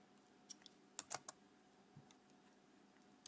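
Typing on a computer keyboard, a few faint, scattered key clicks in an otherwise quiet room, irregular and soft.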